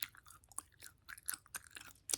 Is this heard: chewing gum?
yes